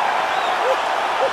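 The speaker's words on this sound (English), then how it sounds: "crowd loving it." Arena crowd in the UFC 4 video game roaring and applauding steadily after a fight-ending knockout, a dense continuous wash of cheering with a commentator's voice over it.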